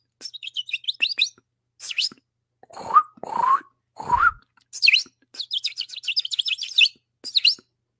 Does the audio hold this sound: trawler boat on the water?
no